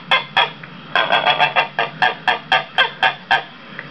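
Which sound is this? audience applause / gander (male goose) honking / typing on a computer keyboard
gander (male goose) honking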